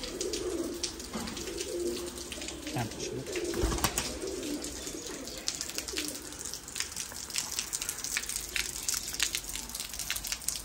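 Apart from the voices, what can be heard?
pigeons cooing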